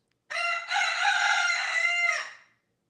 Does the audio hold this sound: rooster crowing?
yes